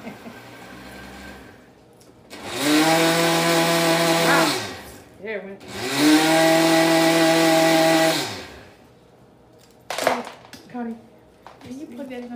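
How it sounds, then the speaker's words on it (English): Kitchen blender whirring loudly in two sustained runs while making potato soup, each burst starting and stopping abruptly, with brief talk and clatter between and after. "With the blender. Tell her who's boss now."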